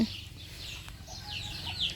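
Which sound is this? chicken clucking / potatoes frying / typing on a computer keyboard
chicken clucking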